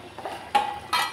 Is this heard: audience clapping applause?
no